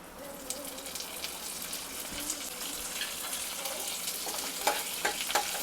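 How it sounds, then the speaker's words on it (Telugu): Curry leaves, dried red chillies, cumin and ginger crackle in homemade ghee for a tempering, a quiet steady sizzle with soft stirring scrapes and a few sharper pops toward the end. "ఇప్పుడు కొంచెం బ్రౌనిష్గా రాగానే కరివేపాకు వేసేద్దాం"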